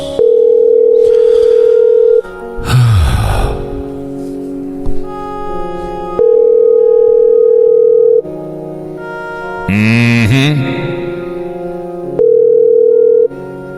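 A telephone dial tone sounds while a call is placed, steady loud tones in three long bursts with shorter electronic tones between them.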